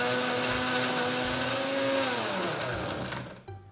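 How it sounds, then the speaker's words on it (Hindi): Electric mixer-grinder blending an Oreo milkshake with milk and vanilla ice cream: a loud, steady motor whine that slides in pitch, then cuts off abruptly near the end, with no talking. "इसको मिक्सर में ब्लेंड कर लेंगे।"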